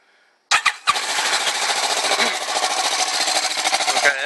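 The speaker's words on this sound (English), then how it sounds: "Okay, that's a cold start." A 2011 Kawasaki Ninja 650R with a Yoshimura carbon fiber exhaust cold starts after a short starter whir, catching abruptly and settling into a loud, rapid, slightly rattly idle up close.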